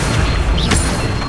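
An Accio summoning spell is cast in Hogwarts Legacy: a short, loud, rushing magical whoosh with a brief swept tone in the middle, heard alone.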